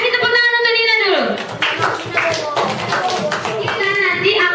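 Children in a fourth-grade classroom clap for a classmate, a burst of hand claps overlapping a teacher's voice, with children's voices and chatter mixed in throughout.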